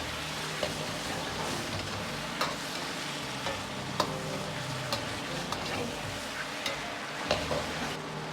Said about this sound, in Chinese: 继续翻炒均匀，炒出酱香味